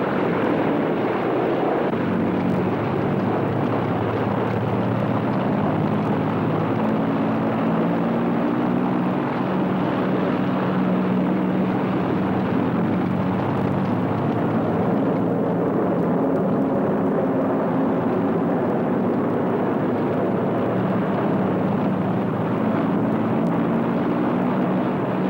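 A steady, droning roar of an Avro Lancaster bomber's heavy piston engines, continuous and unbroken for the whole stretch, with a low rumbling hum and no voices.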